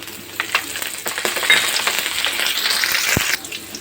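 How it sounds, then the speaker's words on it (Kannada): Cumin, mustard seeds and curry leaves splutter in hot oil, giving steady close sizzling broken by sharp popping crackles, with a spoon scraping the pan now and then. "ಚೆನ್ನಾಗಿ ಚಿಟಪಟ ಅಂತೈತೆ."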